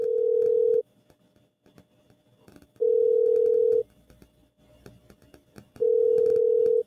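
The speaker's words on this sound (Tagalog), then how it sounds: "Pakisagot na lang yung telepono in case." A steady telephone tone sounds in three evenly spaced beeps, each lasting about a second with longer silent gaps between, during a call being patched through at an International Workers Day celebration.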